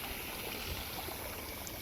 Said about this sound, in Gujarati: અત્યારે જો પાણી જાય છે જરા જરા